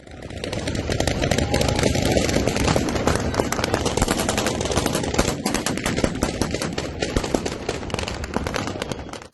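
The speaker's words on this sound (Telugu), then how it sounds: "పలు ప్రాంతాల్లో పెద్ద ఎత్తున కాల్పులు జరుగుతున్నాయి." Heavy gunfire from clashes in Syria crackles in dense, rapid automatic bursts, loud and continuous throughout, with sharp overlapping shots and a low rumbling background.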